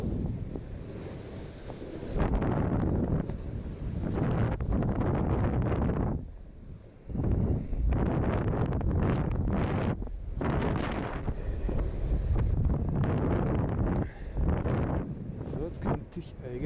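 Gusty wind while snowkiting at Obertauern in hazy conditions, a loud broadband roar buffeting the microphone, surging and easing in bursts with brief lulls, with a voice speaking at times.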